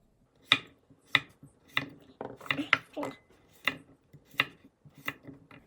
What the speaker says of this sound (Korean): 양파를 썰어 보겠습니다.